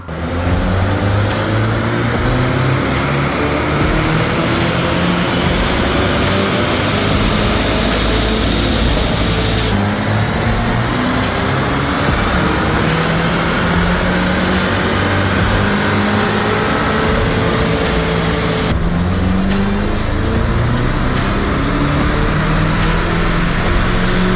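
A VW Mk8 GTI running a JB4 tuner roars at full load on a dyno, loud and close, with the engine pitch climbing through each run and resetting between pulls.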